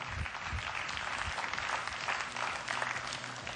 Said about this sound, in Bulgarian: аплодисменти още веднъж, ръкопляскаме